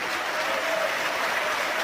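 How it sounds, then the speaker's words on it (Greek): A stadium crowd at a Panathinaikos versus AEK football match applauds Rivaldo's free-kick goal, a steady, dense wash of clapping from many hands heard at a distance and holding even throughout. "Και ακούτε ότι χειροκροτείται"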